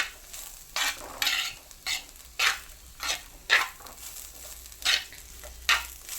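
Tuna fish thoran, a Kerala-style dish, stirred and mixed in a pan, giving repeated scraping strokes of a spoon against the metal over a low steady sizzle, close and with no talking.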